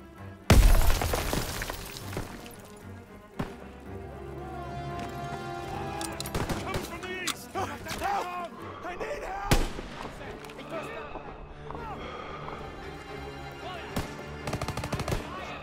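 Rifle gunfire in the World War II shooter Call of Duty WWII: loud sharp shots crack out over ongoing game action, with voices talking in between.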